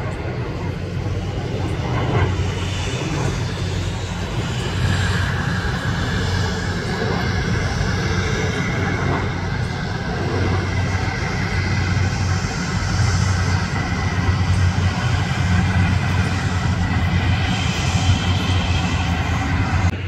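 An Aerolíneas Argentinas airliner arriving from Buenos Aires lands at Guarulhos airport on runway 28, its steady, loud jet roar and low rumble filling the scene throughout with no break.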